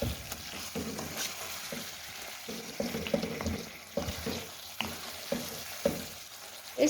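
Chicken karahi, Peshawar charsi style, being stirred and mixed in a pan with a steady frying sizzle and intermittent scraping knocks of the spoon, close and moderately loud, no talking.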